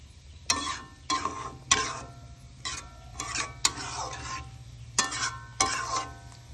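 Taro cooking in a pan with chickpeas and dried fish, with repeated bursts of stirring and scraping over a soft steady sizzle, close and moderately loud.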